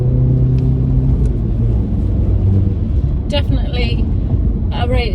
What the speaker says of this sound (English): As you can hear the engine,